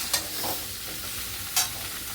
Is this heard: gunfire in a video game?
no